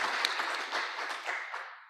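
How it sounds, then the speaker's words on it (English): Audience applause at an evening awards event, a short burst of dense clapping from a crowd that fades out toward the end, no voices over it. "let's give them a round of applause for tonight."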